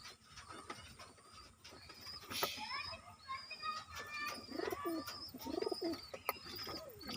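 Pigeons coo repeatedly in soft rolling phrases, close by, with other bird chirps and faint background noise around them.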